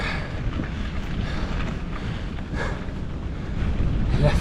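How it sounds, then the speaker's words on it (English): Strong headwind buffeting a cyclist on a Colorado climb during the Tour Divide bike race, a steady loud roar of wind across the microphone throughout, swelling slightly toward the end, with no talk. "this headwind is not messing around"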